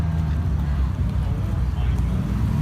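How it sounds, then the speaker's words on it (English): A loud, steady, deep McLaren Senna supercar engine rumble in race mode that idles continuously, with faint voices mixed in beneath it. "Okay, so tell me, why do Sennas sound like this?"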